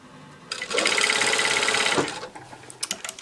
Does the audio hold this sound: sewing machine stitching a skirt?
yes